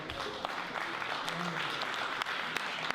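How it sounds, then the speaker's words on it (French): An audience applauds steadily, a dense patter of many hands clapping nearby, with a few louder individual claps standing out. "Est-ce qu'on peut applaudir?"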